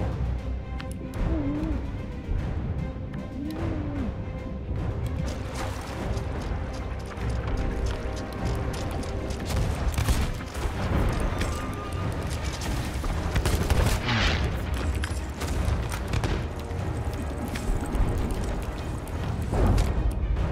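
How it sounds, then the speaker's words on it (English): Video game combat in a boat scene with cannon fire and gunfire, including shotgun blasts, sounding as dense rapid bursts and booms that continue nearly without pause, loud and close throughout. "A skeleton shot a cannon into their boat, and it killed me!"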